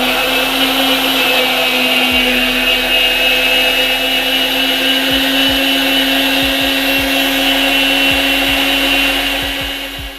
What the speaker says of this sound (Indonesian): Kemudian ini kita mixer sampai tercampur dengan merata ya.